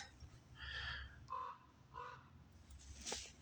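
Crows caw outdoors in several separate calls spaced about half a second apart, fairly faint and distant against a quiet background.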